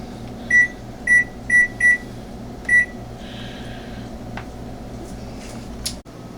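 Five short electronic beeps in quick succession from an oven timer keypad, close, followed by faint handling noises over a low hum.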